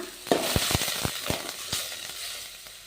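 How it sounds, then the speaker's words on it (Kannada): Cooked rice stirred into urad dal and chana dal frying in ghee: a soft sizzle broken by several sharp spoon scrapes and clinks against the pan, close and without speech. "ಅನ್ನ ಹಾಕಿ ಮಿಕ್ಸ್ ಮಾಡ್ಕೊತೀನಿ ನೋಡ್ರಿ ಬಿಡಿ ಬಿಡಿಯಾಗಿ ಅನ್ನ ಉದ್ದಿನ ಬೇಳೆ ಕಡಲೆಬೇಳೆ ಹಾಕ್ತಾ ಇದ್ದೀನಿ"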